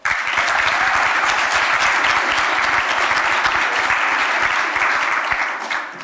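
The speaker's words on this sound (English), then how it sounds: "give her a big applaud." Seminar audience applauding a welcome keynote at a Nordic Agenda 2030 event: dense, steady clapping from a large crowd, loud and sustained throughout before tapering slightly at the end.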